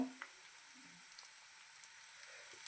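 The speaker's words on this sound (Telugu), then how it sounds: "చక్కగా ఇదంతా కూడా కొంచెం సిమ్లో పెట్టుకుని వేయించేసుకుందాము" Steady soft sizzle of tempering spices frying in oil in a pan on a low flame for an emergency tomato pickle, continuous and even with a few faint crackles.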